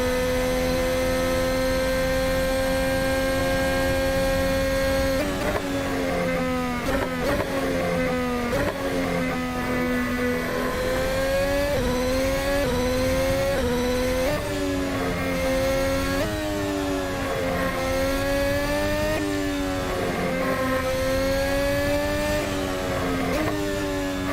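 Aston Martin AMR22 race car engine in Assetto Corsa, screaming loudly and continuously as it revs up and drops back through repeated gear shifts, with pitch sweeping up and down and no talk over it.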